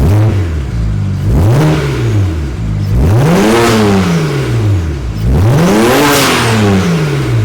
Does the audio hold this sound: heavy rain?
no